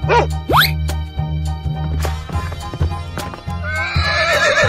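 A horse whinnies loudly with a rising, shaking neigh in a playful animal-sounds cartoon, set over steady bouncy music with clip-clop style beats and a brief squeaky effect near the end.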